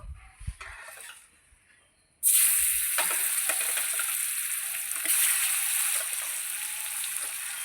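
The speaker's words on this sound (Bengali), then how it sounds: "বোয়াল মাছ প্রচণ্ড ফাটে" Pieces of boal fish fry loudly in hot oil, crackling and spattering steadily. A faint clatter comes first, then the sizzle bursts in and holds strong, with sharper pops scattered through it.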